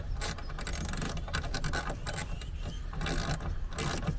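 A ratchet works 10mm bolts out of the soft top brackets on a Jeep Wrangler JKU, giving quick, repeated clicking bursts close by with brief pauses between strokes.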